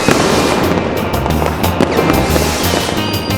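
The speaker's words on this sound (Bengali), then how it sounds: "ওইটা কত বাজির আওয়াজ শুনছি। রকেটও উড়ছে।" Firecrackers and rockets going off during a festival night, a dense crackling stream of sharp pops and bangs with hissing bursts, loud and continuous, with no talking.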